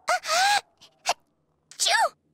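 A single short, sharp sneeze from a character in the video game Persona 4 Golden, set among brief voiced gasps and vocal sounds in a quiet scene.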